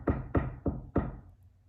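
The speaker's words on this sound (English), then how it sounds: "can you tap on the door?" Four firm knocks on a door, close and crisp, the first three quick and evenly spaced and the last after a slight pause.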